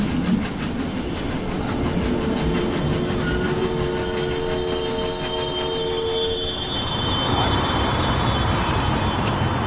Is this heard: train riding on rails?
yes